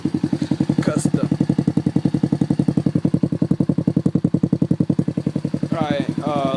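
Custom-exhaust X18 motorcycle engine, body not yet fitted, running nearby with a steady rapid low-pitched pulsing putter at even rhythm, loud and close throughout, with a faint voice near the end.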